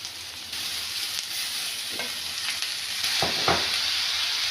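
Onions and small shallots sautéing in a pan for a Kuttanad-style clam roast, a steady close sizzle with a few scraping stirs of a spoon toward the end.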